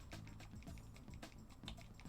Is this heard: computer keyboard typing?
yes